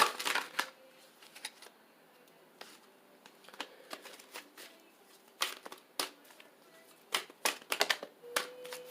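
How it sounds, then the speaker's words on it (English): Angel cards are shuffled and pulled from a deck in a quiet room, giving repeated soft riffling bursts and sharp slaps spaced irregularly across the stretch, close and fairly quiet. "I'm going to pull just like 3 angel cards."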